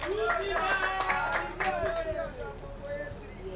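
Scattered clapping greets an official at a sanitation and groundwater event, fairly faint and uneven, mixed with crowd murmur and a voice talking through it.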